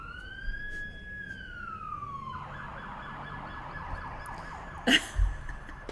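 A fire truck siren wails and sweeps in pitch, then settles into a rapid warbling pattern against steady traffic rumble, with a couple of brief thumps near the end.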